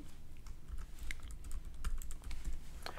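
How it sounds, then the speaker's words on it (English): Fingers type a password on a computer keyboard in a quiet room, a steady flurry of light, close key taps with a few brief pauses and no voices. "Right here in new password, I'm going to type in my new password."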